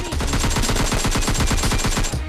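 Rapid automatic gunfire in the mobile shooter PUBG Lite, a continuous loud burst of evenly spaced shots sustained for about two seconds with no talking over it.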